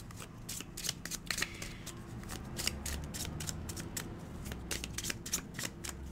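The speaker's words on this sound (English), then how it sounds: "First, I'm going to pull out the Oracle cards." A deck of oracle cards is shuffled in a steady run of crisp, riffling flicks and slaps, close and fairly quiet, going on throughout.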